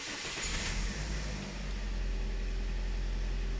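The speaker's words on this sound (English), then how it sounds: "So I'm going to start the engine so we can confirm the customer's complaint." A 2009 Toyota Corolla with a misfire in cylinder two and a flashing check engine light cranks and catches, then settles into a steady, low idle hum close by.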